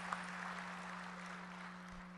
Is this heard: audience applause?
yes